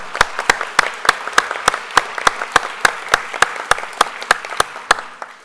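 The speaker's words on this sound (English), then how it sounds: "Everybody give them a round of applause." Audience at a school board meeting claps for the Belton High School cheerleaders after their showcase: a crisp, evenly timed series of about twenty sharp claps, close and prominent, beating at a steady rhythm throughout.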